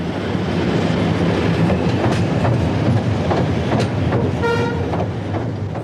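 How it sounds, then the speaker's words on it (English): Diesel test locomotives rumble steadily across a newly built railway bridge on British Rail, with rhythmic wheel clatter throughout and a brief horn toot near the end. "Back come the test engines."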